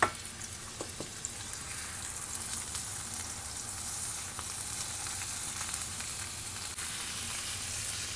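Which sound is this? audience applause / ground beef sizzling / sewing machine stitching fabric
ground beef sizzling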